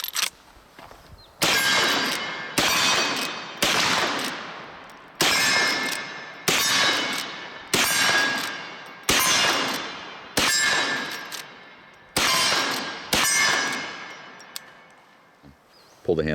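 Rifle shots from a color case hardened Henry Big Boy .44 Magnum ring off steel targets, about a dozen sharp cracks each followed by a metallic clang and a ringing decay, spaced roughly a second apart.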